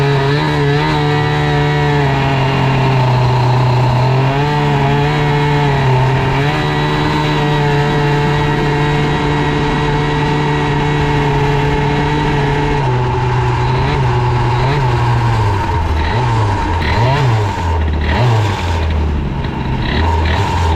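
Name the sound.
Airsal 70cc scooter engine revving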